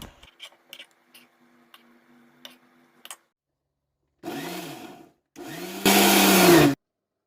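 A mixer grinder jar blending cooled roasted tomato chutney: a few light clicks and taps, then two loud whirring pulses, the second longer and stronger.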